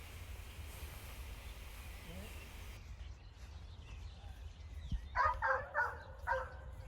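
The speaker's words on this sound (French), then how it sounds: "Il aboie tout le temps." A dog on a golf course in Aix-les-Bains gives a short run of several barks partway through, set against steady outdoor background noise.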